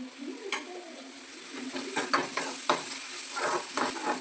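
Finely chopped onion fries in a pan with a close, bright sizzle, broken by regular scraping taps of a spatula stirring it.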